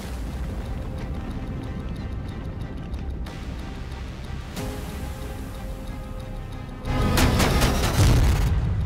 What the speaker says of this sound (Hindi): रूसी मीडिया ने दावा किया है ट्रंप ने B-61-12 परमाणु बम फोड़ दिया है